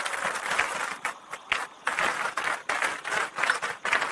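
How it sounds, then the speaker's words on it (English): A studio group applauds during a casual podcast conversation, bursts of clapping rising and breaking off in uneven waves, moderately close with no talking over it. "Another round of applause, man."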